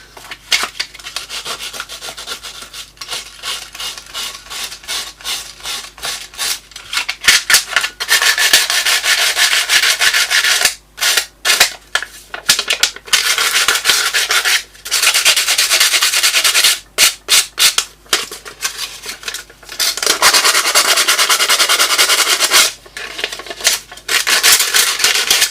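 Loud, rhythmic sanding by hand with coarse-grade sandpaper, long rasping strokes broken by short pauses, close up and with no talking.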